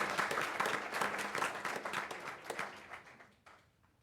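A school board meeting audience gives a short round of applause for students who qualified for region band, brisk clapping that thins and trails off within a few seconds.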